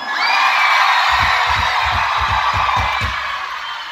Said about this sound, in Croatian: ajmo jedan vrisak za Musu